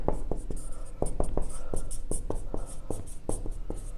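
Pen strokes scratch steadily across paper while a math equation is written out by hand, a close, rhythmic series of short taps and scrapes with brief pauses between symbols.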